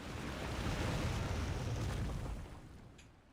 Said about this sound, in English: The water's flowed into the groove,